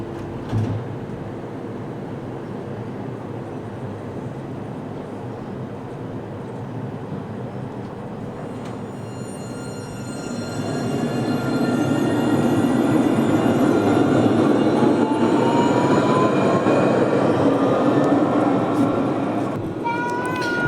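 A tram rolls through Celleneuve station in Montpellier, a low hum that swells midway into a louder roar with rising electric whines and faint squeals from the wheels, heard near and continuous.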